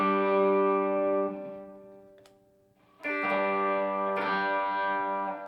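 An Epiphone Les Paul Muse 2020 with its two pickups wired out of phase, driven through a Friedman BE-OD overdrive pedal: a sustained distorted chord rings and fades, then two more chords strike hard and ring on, with no talk.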